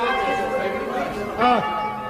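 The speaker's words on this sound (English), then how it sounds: "There go the alarm bells." Church alarm bells ring in a steady, layered tolling that sits under a voice in an English village radio drama, growing briefly louder near the end.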